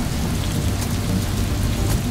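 Steady rain falls at a border post on the way into Bulgaria after a long wet ride, a dense continuous hiss with a low rumbling undertone and no voices.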